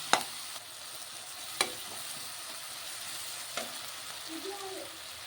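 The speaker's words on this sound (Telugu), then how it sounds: "ఉల్లిపాయ బాగా ఫ్రై అయిన వరకు ఫ్రై చేస్తుంది" Onions fry in a pan with a quiet, continuous sizzle, broken by a few sharp metallic scrapes of a spoon against the pan, all without talk.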